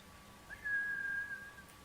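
A single sustained high whistle, clear and steady for under a second, calls a samurai's horse in Ghost of Tsushima, heard alone over a quiet ambient background.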